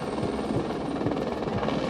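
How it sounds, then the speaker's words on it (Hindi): Helicopter landing at Sanjhi Chhat near Vaishno Devi, its rotor beating in a steady loud thrum with engine whine, close and continuous with no voices. "हेलीकॉप्टर की तेज आवाज और उसके नीचे मंडराते बादलों के बीच"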